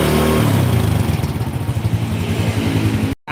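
A motorcycle engine with a full-wave setup revs loudly up close, its pitch climbing steadily before cutting off abruptly near the end.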